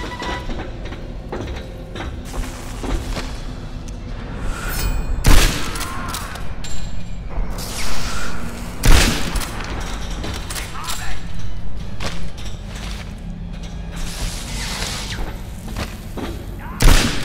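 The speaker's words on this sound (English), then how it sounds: "Explosion!" Battlefield explosions in the WWII shooter Medal of Honor Airborne, Flak Tower level: repeated loud booming thuds and blasts with gunfire over a dense, continuous combat din, with a voice shouting amid the noise.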